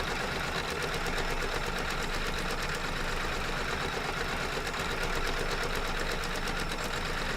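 An embroidery machine stitching a dense satin fill runs with a fast, even mechanical chatter, a constant buzzing rhythm that holds steady throughout with no talking.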